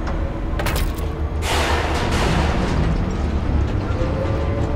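An EMP detonates in Batman: The Telltale Series, a loud, sustained explosive blast with a sharp crack near the start that swells into a long rumbling roar.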